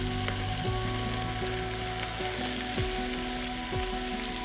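Onions fry in a pot for gravy: a steady, loud, close sizzle runs throughout, with stirring noises and a droning tonal hum beneath, and no voices.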